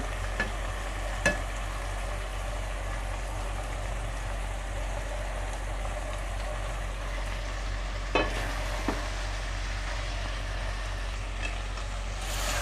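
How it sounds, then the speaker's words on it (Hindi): Fried okra being stirred into minced meat in a pan, a low continuous sizzle with a few sharp spoon clicks against the pan, over a steady background hum. "इसको अच्छे से मिक्स कर लें कीमे के साथ"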